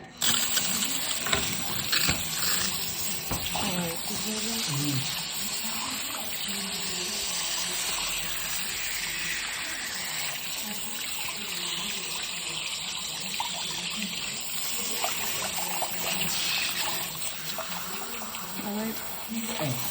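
Water runs steadily from a tap into a basin during a dandruff scratching and shampoo session, a continuous close hiss and splash lasting the whole time, with occasional talking underneath.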